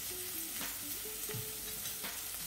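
Capsicum frying lightly in a pan for pav bhaji gives a steady soft sizzle with a few stirring scrapes, close by and fairly quiet, with no voices.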